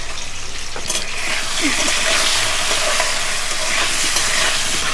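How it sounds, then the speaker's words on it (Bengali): Potatoes frying in a pan with salt and turmeric, giving a loud, dense, steady hiss of sizzling oil with faint stirring sounds through it. "ভালো করে ভেজে নেবো আলুগুলো আলুগুলোর মধ্যে একটু নুন দিচ্ছি আর একটু হলুদও দিয়ে দিচ্ছি"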